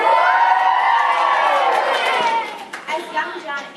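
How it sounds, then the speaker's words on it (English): A large crowd cheers and shouts at the start of a footrace on an open field, a loud, continuous roar of many voices that thins into scattered whoops and calls near the end. "The crowds cheered."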